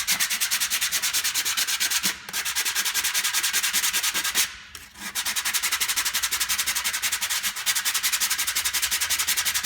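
Wood being hand-sanded with sandpaper while shaping a wooden spatula, a fast steady back-and-forth rasping rhythm, close and continuous apart from two brief pauses.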